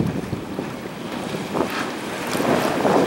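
A 2006 Sting Ray 240 boat runs at wide open throttle, heavy wind rush and water spray roaring continuously and growing slightly louder, with no voices.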